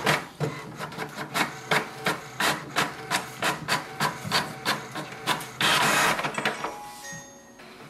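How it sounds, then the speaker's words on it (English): HP Envy 6022e printer printing its information page: a steady run of rhythmic mechanical clacks and whirring paper-feed strokes, close and fairly loud, ending in a brief louder whir as the page comes out. "It will send a command for the printer to print the printer information page."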